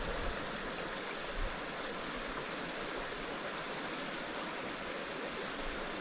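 Steady broadband rush of the St Patricks River in Tasmania, flowing continuously and close by with no pauses and no voices.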